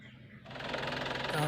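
A used Nissan Big-M single-cab pickup truck engine idles with a steady, rapid mechanical chatter that grows louder after a brief quieter start, close to the listener.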